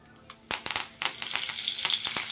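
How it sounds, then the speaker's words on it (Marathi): Cumin, mustard seeds and curry leaves hit hot oil: after a quiet moment a burst of sharp crackles and pops breaks out, settling into a loud, continuous sizzle close by. "जिरं मोहरी छान फुलले का कडीपत्त्याचे पाने आपले तेही टाकणार"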